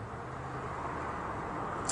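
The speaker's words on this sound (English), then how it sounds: "as a car is coming right now" A car approaching along a road, heard as a faint, broad steady rush of tyre and engine noise with a low hum underneath, fairly distant and even throughout.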